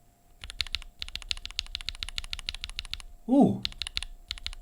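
Lubed and filmed linear mechanical keyboard switches typed on in quick, even bursts of soft, muted clacks, close up, with a brief voiced exclamation partway through.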